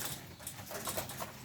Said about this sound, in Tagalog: At ayan na sila mga kalapatids